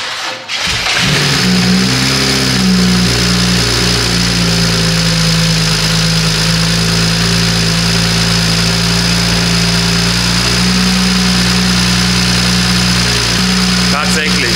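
A Porsche engine cranks and catches, then runs loudly and steadily close by with a rough, humming drone for the rest of the clip.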